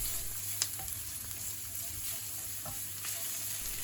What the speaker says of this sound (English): Add the garlic and fry for a further minute until the bitter smell disappears.